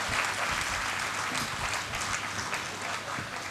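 A live audience at an event claps in sustained, dense applause, steady and fairly loud throughout with no voices over it.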